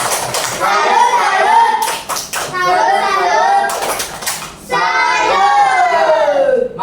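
Children in a classroom perform a 'tepuk salut' clapping chant for a group, with patterned bursts of claps between loud sung and chanted voices, close and energetic.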